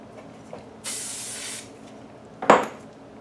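Hairspray sprayed onto very short hair, one sustained hiss of under a second, then a sharp clatter or clack, close and fairly loud, with no talking.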